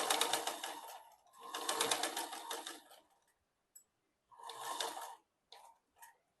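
A sewing machine stitches kurti fabric, including a reverse stitch, in three close, loud whirring bursts separated by pauses with brief small clicks, no voices.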